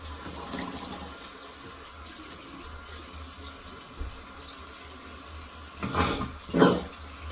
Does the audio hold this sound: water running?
yes